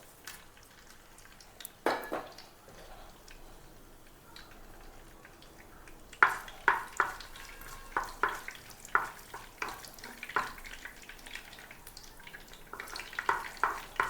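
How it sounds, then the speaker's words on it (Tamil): Fenugreek seeds, curry masala and cinnamon stick dropped into hot oil for a crab gravy, crackling and sizzling softly with scattered clinks of a spoon against the pan, growing busier after a quiet start. "எண்ணெய் காஞ்சிருச்சு. இப்போ வெந்தயத்தை போட்டுக்குவோம். அதோட கறி மசால் பட்டை அதையும் சேர்த்துக்கிறோம்."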